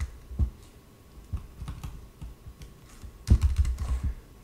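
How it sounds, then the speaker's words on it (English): A USB keyboard connected to a CoCo 3 is typed on in short irregular clusters of close clicking keystrokes, with a denser burst toward the end and no talk. "as you can see, I can type away and it works"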